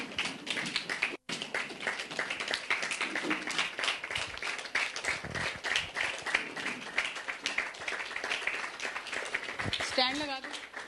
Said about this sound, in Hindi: स्वागत करें पत्री मैम का जोरदार तालियों के साथ।